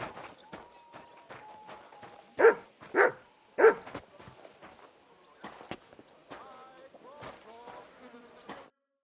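A dog in Kingdom Come Deliverance 2 gives three loud, closely spaced barks near the start, set among buzzing insects, rustling and quieter ambient game sounds, with a few fainter yips afterward.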